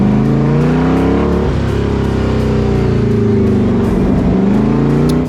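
A hand-built steampunk hot rod, a 1930s Ford Roadster with a 302 engine and five-speed transmission, rumbles loud and close, its deep engine note swelling and easing through a few revs without a break.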